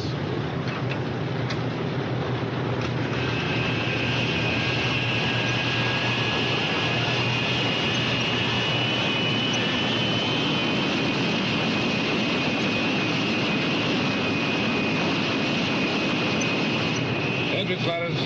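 Four jet engines run on a B-36 Peacemaker bomber as a loud, continuous roar with a steady high whine over it. A voice talks over the noise now and then.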